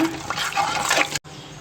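Water pours steadily into a cooking pot in a rushing splash for about a second, then cuts off abruptly, leaving a quiet background hiss.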